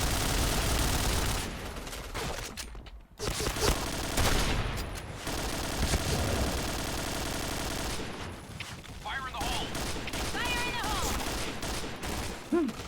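Rapid gunfire from a Point Blank online shooter match, dense bursts of automatic fire and shots filling most of the stretch, with a brief lull and excited player talk underneath.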